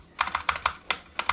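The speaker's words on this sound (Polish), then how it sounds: "Stabilizatory pod spacją działają ok." Several keys, space bar, Shift and Enter with stabilizers, pressed on an affordable White Shark Shinobi 60% hot-swap mechanical RGB keyboard, giving seven or eight crisp, close clacks in a quick uneven rhythm with no talking.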